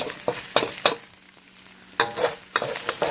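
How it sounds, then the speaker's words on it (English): Egg frying in a hot wok for house special fried rice, with bursts of sizzle and scraping stirs recurring every half second or so, a quieter pause in the middle, then more stirring strokes close by. "Right now I'm frying up the egg in the wok"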